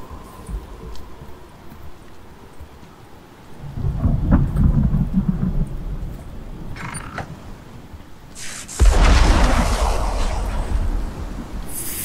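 A thunderstorm rumbles through the Icarus game world: heavy rain hisses steadily while two deep thunder rolls boom in, the second one louder and longer.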